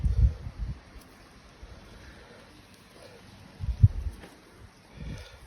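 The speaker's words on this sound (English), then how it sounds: "So the wind is blowing a bit." Wind gusts outdoors buffet the microphone in low, rumbling bursts at the start, again near the middle and toward the end, with quieter stretches between.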